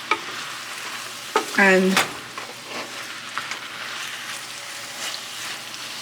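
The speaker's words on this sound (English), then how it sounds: "we're going to stir this up a little more." A pan of sauce with fresh thyme and basil just dropped in is stirred, giving a steady low sizzle and scraping with a brief louder clatter of the spoon partway through, while one voice speaks briefly.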